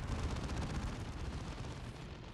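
Heavy artillery cannon fire in the strategy game Dawn of War II, a dense, continuous rumble of booming blasts and explosions filling the whole clip with no voices.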